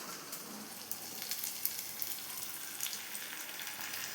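Vallarai greens added to half-fried onions in a pan for chutney, giving a soft, steady sizzle with scattered light crackles, fairly faint and close, with no voices.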